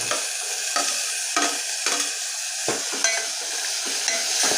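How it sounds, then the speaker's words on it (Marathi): Tomatoes sautéing in a pan with fried onion and ginger-garlic paste for masoor dal, a steady close sizzle broken by about nine brief scraping stirs, with no talk. "आणि टोमॅटो याच्यात असं परतून घेऊया"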